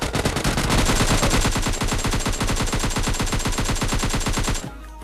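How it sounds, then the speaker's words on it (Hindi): Gunfire in PUBG Mobile Lite, a loud, sustained automatic burst of rapid evenly spaced shots that stops abruptly near the end, with no talking. "मैंने इस पर कुछ शॉट्स भी ट्राई किए"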